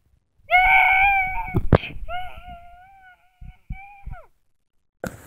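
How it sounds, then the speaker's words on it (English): A SpongeBob character screams in a high, sustained wailing cry that breaks off, then trails into a shorter second scream with a few clicks and thuds after, loud and close. "See you in the next chapter if SpongeBob won't keep screaming or not"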